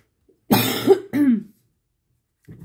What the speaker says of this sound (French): Et vas-y que je tousse.